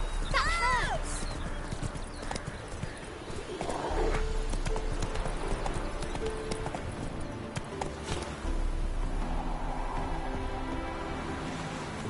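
Geralt's horse Roach gallops in The Witcher 3, rapid hoofbeats running throughout under a busy game mix, with a brief whinny near the start.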